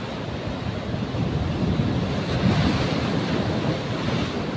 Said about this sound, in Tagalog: Kahit na napakalakas ng alon